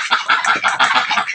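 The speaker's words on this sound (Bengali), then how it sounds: "আমার হাঁসগুলো" Domestic ducks on a rooftop give a quick run of several nasal quacks, close and fairly loud, overlapping in a short busy burst with no talking.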